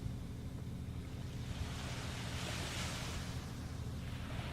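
Steady ocean surf washing onto a beach, a continuous broadband roar with gentle swells, heard alone without any talk.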